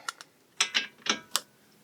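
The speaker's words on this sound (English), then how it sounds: "we're going to torque these to 150 foot-pounds" Torque wrench tightening the front strut bolts on a 2009-2014 Toyota Prius to 150 foot-pounds, giving a few sharp, close metallic clicks spaced irregularly in otherwise quiet surroundings.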